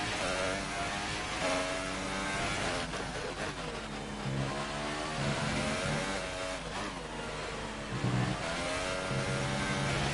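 Racing car engine from the F1 2018 game roars steadily at high revs, with rising and falling pitch as it shifts through gears, loud and continuous throughout with no talk.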